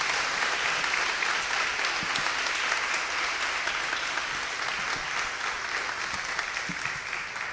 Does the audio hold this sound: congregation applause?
yes